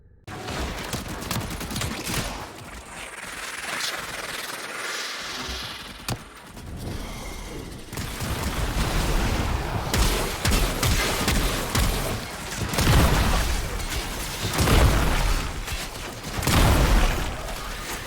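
Rapid, sustained automatic gunfire from the Bubonico primary weapon in the sci-fi shooter Warframe, loud and dense with brief pauses between bursts, layered over engine-like rumble and game effects.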